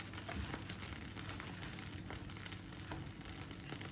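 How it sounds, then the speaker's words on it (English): Steady, dense sizzling of melted butter frying pierogi in a hot pan, a continuous crackling hiss that stays loud and even throughout with no talking. "You can hear the melted butter sizzling."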